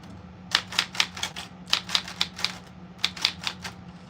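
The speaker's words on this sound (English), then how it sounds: "I have a typewriter here." Sharp mechanical typewriter keystrokes in three quick bursts with short pauses between, crisp and close, over a faint steady hum.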